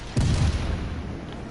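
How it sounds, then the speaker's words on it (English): A warship's cannon fires in a naval video game, a single heavy boom that starts abruptly and rolls into a low rumbling decay, alone with no talk. "First of all, you see my cannon fire."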